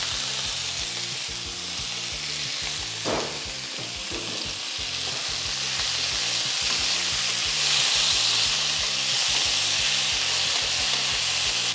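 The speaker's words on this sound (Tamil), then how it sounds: "இந்த ஜீரகம் பொரிஞ்சு கரெக்டாக வரப்போ நம்ம வேக வச்சு வடிகட்டி வச்சுருக்கிற வெஜிடபிளை இதில் போட்டுருவோம்." Boiled, drained vegetables for aviyal tossed into a pan of spluttering cumin and curry leaves, frying with a steady loud sizzle and brief stirring clatter, no voices.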